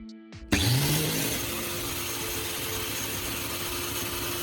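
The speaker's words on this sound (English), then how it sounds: "I'm ready to sharpen the drill bit." A drill bit held against a bench grinding wheel in a wooden jig set at a 60-degree angle, a steady loud whirring grind that starts abruptly and holds level throughout.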